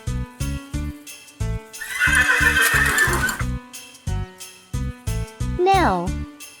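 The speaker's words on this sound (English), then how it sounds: "Horse." A horse whinnies loudly with a falling, wavering neigh, set among a steady run of near, evenly spaced hoof clip-clops on a farm, with a noisy rushing burst in the middle.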